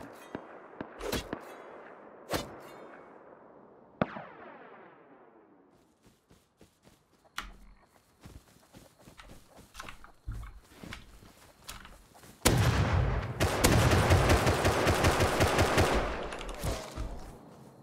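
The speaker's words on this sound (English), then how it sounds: "I heard semi shots close by." Semi-automatic rifle shots ring out nearby in the survival game Rust, several sharp separate cracks with echoing tails, followed later by a dense, loud burst of rapid gunfire.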